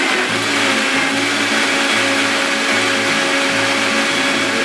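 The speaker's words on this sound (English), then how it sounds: "and now we're going to blend it up." A blender packed full of plums for plum butter runs at a loud, steady roar, with a low pulsing churn underneath as the fruit is pureed.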